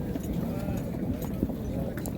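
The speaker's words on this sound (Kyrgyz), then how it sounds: "Аттын түрү кирип тур." Horses walking at a horse market in Nookat, with a busy, close clip-clop of hooves on hard ground under constant talk from people nearby.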